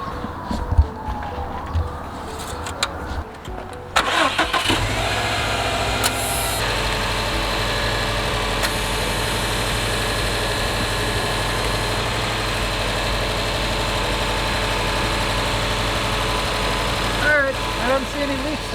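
Engine of a 2015-2021 Subaru WRX STI turns over after handling noise, then settles into a steady, loud low idle with a constant drone, recorded up close.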